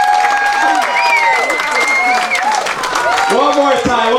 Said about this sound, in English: Round of applause for these two beautiful.